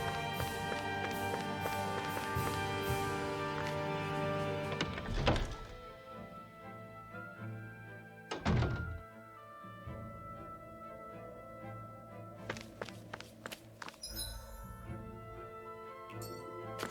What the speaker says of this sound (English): I always love the sound of hammers banging away.